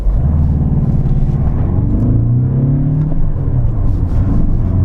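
A VW Golf 6 2.0 TDI 110 diesel, a car with a fault-prone gearbox, accelerates hard from standstill toward 100 km/h, its engine note droning loud and steady, then rising in pitch through the revs.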